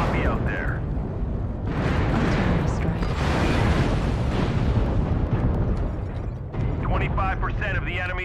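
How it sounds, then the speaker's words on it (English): Artillery strike explosions in MechWarrior Online: continuous heavy booming and rumbling blasts, dense and loud throughout, with a voice and mechanical game sounds mixed in. "Artillery strike."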